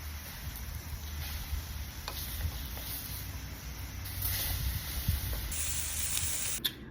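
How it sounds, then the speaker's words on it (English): Salmon pan frying outdoors gives a steady, moderate hiss and sizzle throughout, with faint crackles and a brief louder spatter near the end. "pan fry my salmon"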